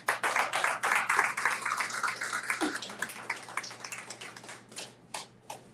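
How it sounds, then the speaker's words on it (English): A dense round of audience applause at a community gathering, loud and sustained at first, then thinning into scattered claps as it fades. "Give her one more round of applause."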